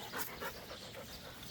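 Dogs panting rapidly on a walk along a greenway trail, a close, rhythmic run of quick breathy huffs that continues without pause.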